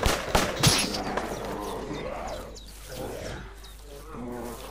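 A sniper rifle is fired at a zombie in the survival game Zafehouse Diaries, with a sharp report at the start followed by a rumbling, growling game soundscape of moderate loudness.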